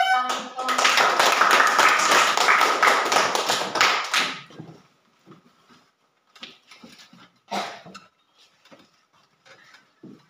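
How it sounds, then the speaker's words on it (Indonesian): A classroom group applauds a student team coming to the front, a few seconds of dense clapping from many hands, then scattered taps and thumps as it dies away and a voice begins talking. "Mari kita tepuk tangan untuk kelompok 2."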